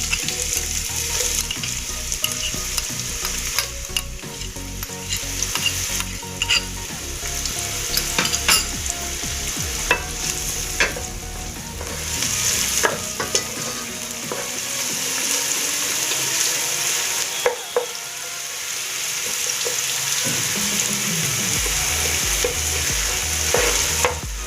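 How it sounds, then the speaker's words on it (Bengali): Chopped onion sizzles in hot oil in a home kitchen pan for pea rice, with a constant crackling fry, scraping and clinking as a spoon stirs, and a brief trickle of running water at times. "এবার আমি এবার পেঁয়াজ কুচিটা দিয়ে দিচ্ছি এর মধ্যে"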